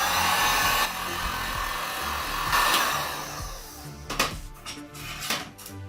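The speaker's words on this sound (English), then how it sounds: "to get started, we can use our heat gun to help make the glue easier to remove." A heat gun blows hot air steadily over old tile glue on a bathroom floor, a loud broadband whoosh for several seconds before it cuts out, followed by a few close scraping and knocking sounds.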